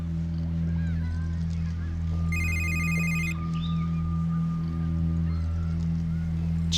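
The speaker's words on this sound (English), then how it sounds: "your phone, you gonna get that?" A telephone bell rings in a short burst over a steady low hum of background noise, with no talking during the ring.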